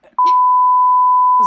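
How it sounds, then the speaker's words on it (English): A loud, steady censor beep lasting just over a second bleeps out a name, cutting in sharply after a brief fragment of speech. "will you beep this name?"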